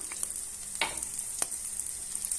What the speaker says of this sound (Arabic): هنا خديت نفس المقله، درت فيها معلقه كبيره ديال الزبده ونخليها حتى تذوب